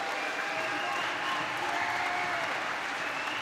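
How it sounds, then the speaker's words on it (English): A squash crowd at the Tournament of Champions 2018 in full roar, sustained dense applause and cheering filling the whole stretch, loud and steady, with no clear talk. "The roar of the crowd."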